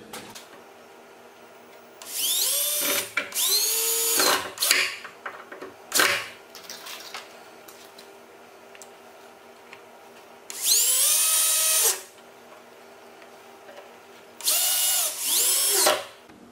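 A power drill drives 1.5-inch deck screws into wood in three separate bursts, each a rising, whining motor run lasting a second or two, with short pauses and small handling knocks between them, close by and otherwise quiet.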